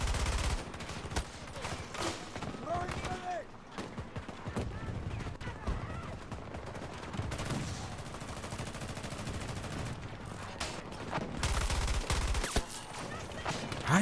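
Enemy gunfire in Battlefield 2042 crackles in bursts throughout, fairly faint and distant-sounding, with heavier volleys near the end and a layer of battlefield noise.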